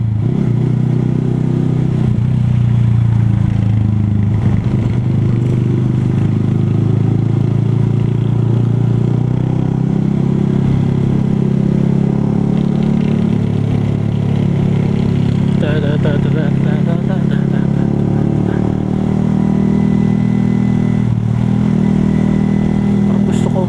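A motorcycle engine drones loud and close while the bike is ridden, its pitch rising and falling with the throttle, and a rider talks over it at times.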